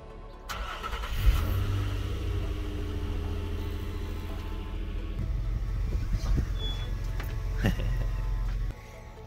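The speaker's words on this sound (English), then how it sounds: "Even with the stock exhaust, the thing sounds pretty mean." Nissan Xterra with its stock exhaust starts and idles with a deep, steady engine drone, then blips the throttle into a few short revs before cutting off abruptly near the end.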